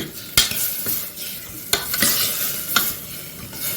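Vegetable pieces such as drumstick, carrot, beans and green peas fry in tamarind juice for Chennai sambar. A steady sizzle runs under sharp, repeated spoon scrapes and clanks as the pan is stirred, close and alone.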